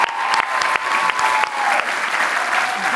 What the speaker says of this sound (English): Let's give another round of applause for Aaron.